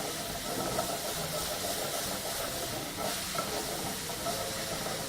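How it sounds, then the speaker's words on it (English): Chopped local spinach fries over medium-low heat in a pot, giving a steady, close sizzle and hiss with faint stirring scrapes, continuous throughout with no talking. "So I'm just gonna give that a nice quick fry"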